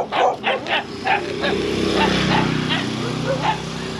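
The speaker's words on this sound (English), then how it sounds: "That's a big dog." A big dog barks in a quick, close burst of several woofs on farmland in Badoc, Ilocos Norte, Philippines, then a steady hum and people talking continue.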